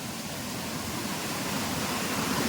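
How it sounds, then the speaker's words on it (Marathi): A mountain spring stream tumbles down a rocky slope in jungle, a steady, dense rush of falling water that holds an even level throughout, close by with no voices. "हे बघा, तुम्ही बघू शकता कसलं भारी झरा आहे"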